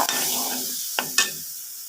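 Wet sizzling and scraping of a spoon stirring thick Kerala-style ginger curry with tamarind water in a hot pan, with two sharper clinks near the end, no voices.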